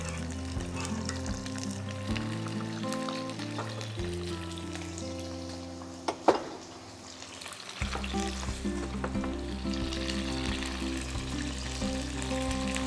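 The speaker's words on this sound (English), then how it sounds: "While they're sizzling away" Tomatoes sizzle and spit in hot oil in a pan, a steady close frying crackle over a low droning hum, with a brief clatter partway through.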